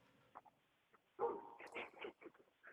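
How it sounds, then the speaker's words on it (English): An annoyed dog lets out faint, soft whimpers and then a short run of muffled barks and yips, quiet and somewhat distant. "I pissed the dog off."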